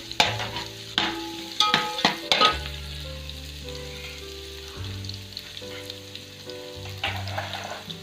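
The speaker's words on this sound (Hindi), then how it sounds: "ये लहसुन अदरक को हम थोड़ा सा ब्राउन कर लेंगे।" Oil sizzles steadily in a pan as garlic and ginger fry, with several sharp clinks and scrapes of a spoon stirring near the start.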